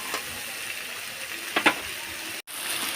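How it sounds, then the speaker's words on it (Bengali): Vegetables sautéing in a pan, a moderate steady sizzle with a couple of brief scrapes and clinks as they are stirred. "দিয়ে দিচ্ছি সবজিগুলো দিয়ে সুন্দর করে একটু কষিয়ে নেব।"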